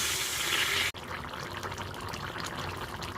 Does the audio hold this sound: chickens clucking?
no